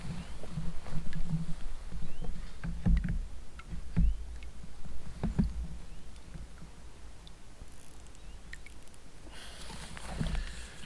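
Pack raft paddle strokes splashing in water at an unhurried pace, a few louder dips standing out against quiet outdoor ambience.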